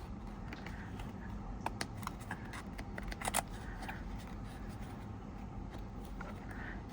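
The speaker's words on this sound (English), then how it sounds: "So I'll go in with my scissors and just trim that away." Scissors snip through frayed fabric layers during paper-crafting work, a few quiet crisp cuts clustered near the middle against a soft steady room background, with no talking.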